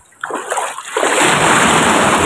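A fishing net drops into the sea with a splash, then water rushes and churns steadily and loudly as the net sinks from the boat.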